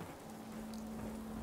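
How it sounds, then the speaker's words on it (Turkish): In Fallout 4, rain pours in a faint, even hiss of drops on surfaces over a steady low tone, brief and continuous with no voices. "Hem yağmur da biter."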